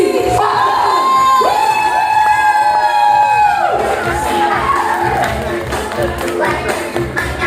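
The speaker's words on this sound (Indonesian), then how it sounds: "mari kita berikan aplaus yang sangat luar biasa" Lively crowd at an Indonesian business seminar cheers, whoops and claps loudly for a former travelling vegetable seller, with a raised shout carrying over the dense, sustained roar of the audience.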